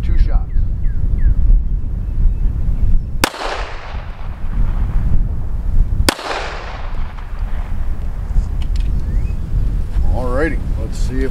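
Two loud, sharp gunshots fired at a stack of books to test whether they stop full metal jacket bullets, each a sudden crack with a decaying echo, a few seconds apart outdoors over wind noise, with a voice heard afterwards.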